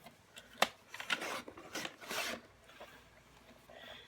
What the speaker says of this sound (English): So I'm going to cut an inch off